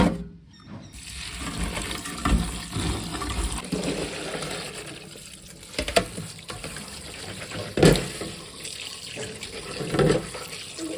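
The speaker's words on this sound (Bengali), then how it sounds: "এদিকে ভেজিটেবলসগুলো ধুয়ে নিয়েছি" Vegetables are rinsed in a bowl under a running kitchen tap, with steady water splashing and rushing throughout and a few louder splashes and clatters as the pieces are moved around.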